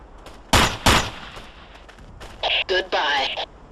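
Two loud gunshot bursts in the Ghost Recon video game, close and punchy, followed by radio-filtered voices talking over the combat.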